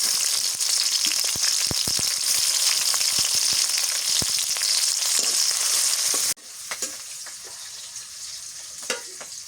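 Garlic and green chillies frying in a pan for a village-style fish curry, giving a steady loud sizzle with stirring clicks that drops sharply partway through to a softer crackle.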